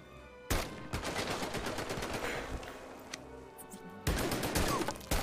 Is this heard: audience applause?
no